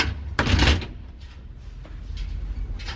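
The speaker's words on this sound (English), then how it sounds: "Upstairs, these doors is sliding door, okay?" An old elevator's sliding door closes with a loud rattling thud, followed by quieter knocks and mechanical movement close by.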